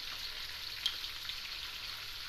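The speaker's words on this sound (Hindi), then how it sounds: "इसको फ्राई करते हैं। ये साथ है अदरक लहसुन का पेस्ट," Ginger garlic paste frying in a pot for chicken biryani, a faint, steady sizzle with one small crackle and no talking.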